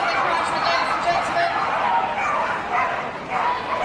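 Many dogs bark, yip and whine continuously at a team flyball racing event in an indoor arena at Crufts 2018, a loud, dense chorus with crowd chatter and voices mixed in.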